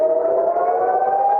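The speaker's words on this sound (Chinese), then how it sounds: "防空警报大作" An air raid siren wails over northern Israel during rocket and drone attacks, a loud, sustained steady tone holding for the whole stretch with no speech.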